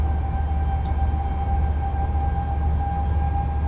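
SIFA vigilance alarm in the cab of a DB BR 101 electric locomotive in Train Sim World, a steady continuous tone held over low rumbling cab and rail noise, with no speech.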